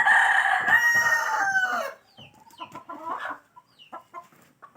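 A skittish chicken gives a loud, close crow, then a series of short, scattered clucks and scuffling noises that grow quieter.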